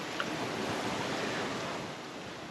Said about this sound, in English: We're still protected by the island from the waves from Barbuda right behind us.